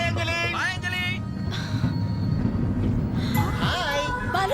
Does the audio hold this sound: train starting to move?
yes